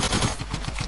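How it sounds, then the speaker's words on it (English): Machine gun fire in Fortnite, a dense rattling burst of close, loud shots packed into under a second, with no talking. "That's Oliver with the machine gun."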